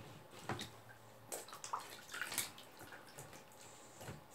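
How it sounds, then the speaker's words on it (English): Bathwater splashes and drips as a washcloth is dipped back in and wrung over a baby girl's hair in a bathtub, with scattered soft trickles and light sloshes close by, fairly quiet overall. "Gonna take the washcloth back in and just wash off her hair."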